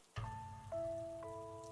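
Steady rain falls as a sound effect in a Korean horror audio story, a soft hiss of drops running under sustained musical tones that swell in at intervals, with no voices.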